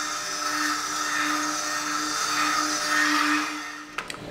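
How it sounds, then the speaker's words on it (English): A stick blender whirs steadily in soapmaking batter, run briefly to burp trapped air from its shaft; a sustained motor whine with a low hum holds for about four seconds, then cuts off with a couple of faint clicks. "I'm burping the stick blender."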